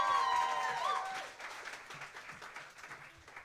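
Applause from a musical theatre audience, starting loud under a fading musical tone and whoops, then thinning into scattered, quieter clapping over a few seconds.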